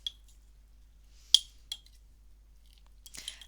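A spoon clinks against a bowl while cinnamon is stirred into ingredients, a few sparse, bright metallic taps separated by near silence, ending in a brief scraping flurry.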